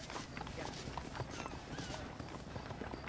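Horses' hooves clip-clop in Red Dead Redemption, a steady, fairly dense patter of hoofbeats that stays even throughout. It sounds moderately close over a low, busy background.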